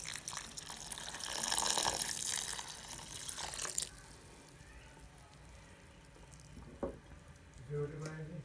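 Milk pours into a pan of grated carrots cooking for halwa, giving a steady splashing hiss that is loudest early and fades after about four seconds. Faint kitchen clatter follows.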